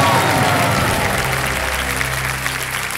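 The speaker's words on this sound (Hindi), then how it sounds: "तालियां बज जाए।" The studio audience of the quiz show Kaun Banega Crorepati gives a burst of loud, dense applause that fills the room and then eases slightly, with a tonal musical cue rising underneath toward the end.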